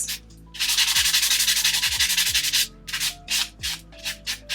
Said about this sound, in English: just buff it really quick with my white buffing block, just to smooth over the surface